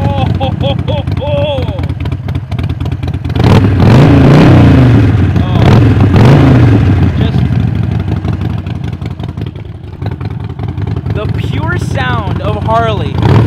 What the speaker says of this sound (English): Literally the pure sound of Harley.